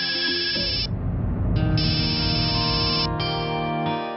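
An electronic phone ringtone plays a repeating, tonal melodic pattern that stops briefly and starts again, loud and clear in an indoor scene from a Telugu TV serial.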